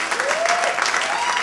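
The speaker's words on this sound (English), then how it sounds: "Y'all give them a round of applause." Applause from a comedy club audience at a stand-up show, a dense steady wash of clapping with a whistle rising through it, filling the short stretch.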